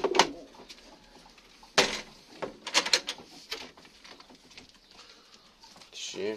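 Pigeons coo softly inside a coop during feeding, with scattered sharp clicks, taps and pecking sounds breaking up the low calls.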